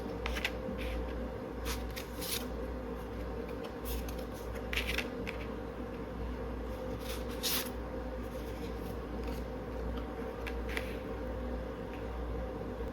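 Tarot cards are shuffled and drawn by hand in a steady run of soft papery riffles and brief card snaps, close and fairly quiet, with no talk over it.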